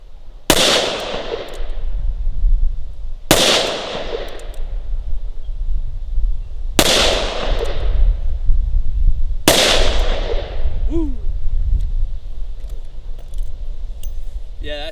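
A Smith & Wesson Model 66 revolver fires .357 Magnum rounds: four loud, sharp shots spaced about three seconds apart, each with a ringing echo that decays outdoors.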